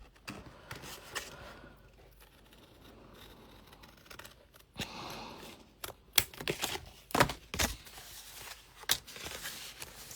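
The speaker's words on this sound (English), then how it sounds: "we're going to cut this off. I'm going to cut these off" Scissors snip through paper for a junk journal page, a scattering of sharp, close cuts that grow busier in the second half against a quiet room.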